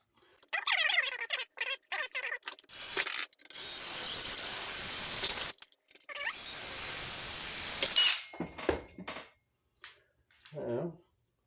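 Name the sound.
power drill drilling a pressed steel toy truck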